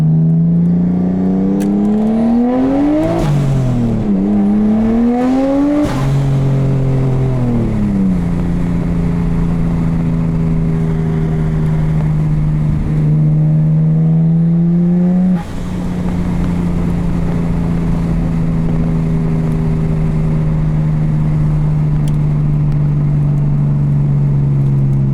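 A 1993 Nissan R33 GTST engine, loud and close from inside the car, revving up through rising pitch sweeps with shifts in the first seconds, then holding a steady drone while cruising.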